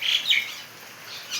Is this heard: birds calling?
yes